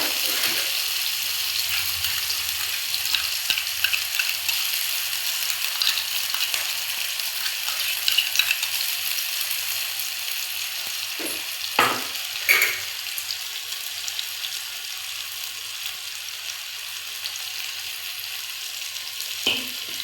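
Green chilli and ginger-garlic paste frying in a pan, giving a steady, close sizzle with a few sharper spits and stirring clicks throughout, with no talking.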